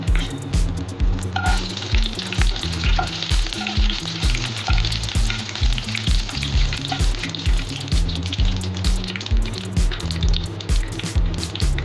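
Dried red chilli frying in mustard oil for a vetki fish dish, a steady loud sizzle with crackling running throughout, over a low rhythmic hum; no talking.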